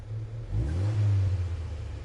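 A 1967 Alfa Romeo Giulia with a six-cylinder engine in Gran Turismo 7 revs up, a low engine drone that swells into a brief louder rise and then holds steady, without talk.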